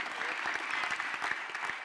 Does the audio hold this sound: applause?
yes